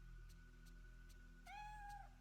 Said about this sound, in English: It'll keep meowing in this corner, but we can't pet it.